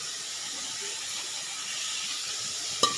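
Ground spice paste sizzles in a hot pan where soybean chunks are frying, a steady broad hiss throughout with a brief sharp clink near the end.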